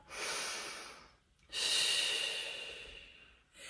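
Slow, audible breaths during a Pilates mat stretch: a long airy exhale, a brief pause, then a fuller breath, fairly close and soft with no talking.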